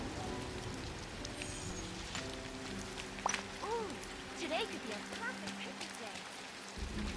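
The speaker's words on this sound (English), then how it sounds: "It's raining." Steady rain patters through the Disney Dreamlight Valley video game scene, a constant soft wash with scattered game chimes and sounds, while a voice speaks over it.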